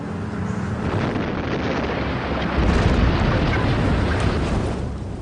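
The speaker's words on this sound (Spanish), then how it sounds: "Se le llama soldadura de explosión." A deep, rumbling explosion-welding blast roars up and swells midway, a sustained low boom with broadband noise and wind-like buffeting, no voices.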